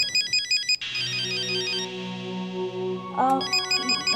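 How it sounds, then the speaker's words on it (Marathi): A telephone ringtone in a Marathi TV drama scene: a bright electronic warbling pattern chirps at the start, gives way to sustained tones, then returns loudly near the end, with no talk over it. "फोन वाजतोय जरा घ्या."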